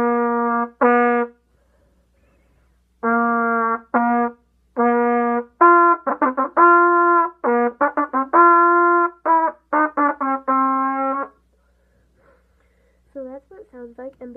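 Solo trumpet playing a theme, with clear separate notes and phrases played up close in a dry room, pausing between passages.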